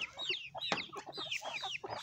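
A large chicken in Davao clucks in quick, close, repeated bursts, alone without talk.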